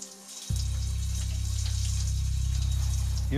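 A shower turning on after a short silence, then running water in a steady, fairly loud hiss with a low hum underneath.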